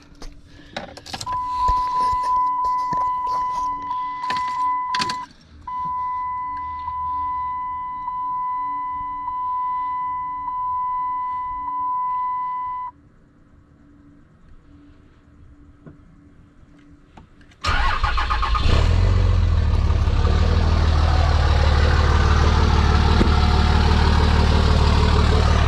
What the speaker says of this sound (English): I'm gonna show you guys a cold start with this exhaust the way it is.